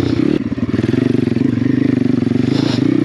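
Cheap Amazon dirt bike climbing a slick, root-covered abandoned trials trail in second gear, its engine loud and close with a steady pulsing putter and some clatter.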